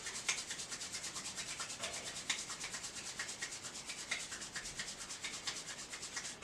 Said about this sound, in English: rub the palms together.